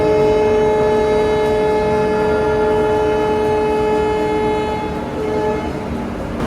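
The Humsafar Express on the Trichy to Pune run sounds a loud, sustained multi-tone horn chord for several seconds, steady and close, then tapers slightly over continuing rail rumble.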